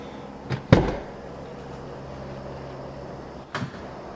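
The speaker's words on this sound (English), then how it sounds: "That was me letting go of the door handle." A sharp thunk of a BMW E39 5-Series door handle snapping back, one distinct knock over a low steady hum of a plane overhead, with a fainter click a few seconds later.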